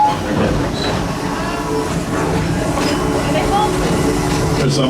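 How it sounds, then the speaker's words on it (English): A park train at Busch Gardens Tampa Bay rolls along its rails, a steady rumble with faint rhythmic clicking carried through the whole stretch, with the noise of the passing ride filling the background. "An absolutely wonderful ride there on the train here at Busch Gardens to end our day at the park."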